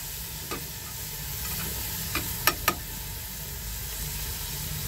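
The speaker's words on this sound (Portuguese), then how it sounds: "o óleo já tá já bem fritinho" Vegetable oil frying in a pan on a motorhome stove, with a steady low sizzle and hiss under a few sharp clinks of stirring, fairly close, no voices.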